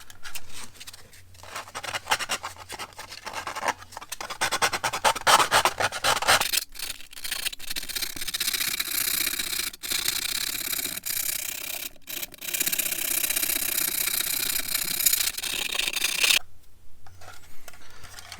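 Sanding a plastic fender for an SCX24 Bronco RC crawler by hand, a steady close scratchy rubbing with bursts and short pauses, no talking.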